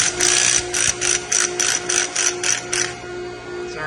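A ratchet wrench loosens bolts on a chiller pump strainer in an HVAC plant room, clicking in a series of about nine quick, close, evenly spaced bursts over a steady machinery hum, then stopping.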